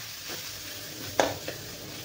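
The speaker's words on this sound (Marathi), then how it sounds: "तर असं हलवून हलवून आपल्याला हे मसाला चांगला खरपूस भाजून घ्यायचा आहे." Masala being stirred and roasted in oil for a vegetable curry, a soft low sizzle with a few quiet scraping strokes of a spoon against the pan, one slightly sharper clink midway.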